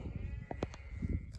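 Newborn lamb on snowy Nurhak mountainsides giving a few short, faint bleats over a soft, rumbling outdoor background.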